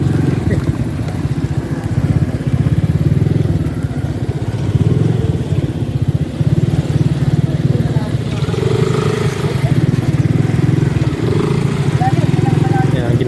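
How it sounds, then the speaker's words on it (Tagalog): A small scooter motorcycle engine drones steadily at close range while riding on a mountain road, a constant low buzzing hum with occasional faint voices. "Scooter tsaka ano, city driving na motorcycle ginamit namin dito sa bundok."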